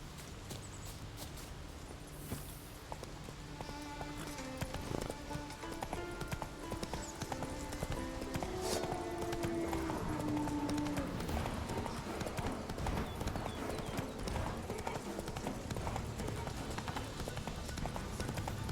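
Roach the horse galloping in The Witcher 3, with fast continuous hoofbeats close by, a brief whinny partway through, and someone talking over it.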